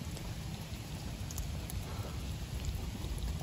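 Heavy rain falls steadily outdoors after a crab-catching outing, a dense continuous hiss of drops with a low rumble underneath, loud and unbroken throughout.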